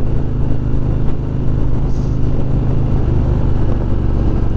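Deep rumbling engine of a 2018 Harley-Davidson Street Glide motorcycle underway on a test ride, a loud continuous throb with wind noise and no talking.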